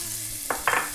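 Chopped onion hits a hot pan for lemon rice, giving a brief sizzle with two quick bursts of frying hiss over a soft kitchen background.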